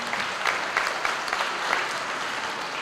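An audience at an elementary school ribbon-cutting ceremony applauds, a brief burst of dense, continuous clapping.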